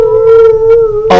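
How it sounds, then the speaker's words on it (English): A long, shuddering wolf howl used as an audiobook sound effect, one steady sustained tone held loud and close for about a second before a burst of broader noise cuts in at the end. "A long, shuddering howl."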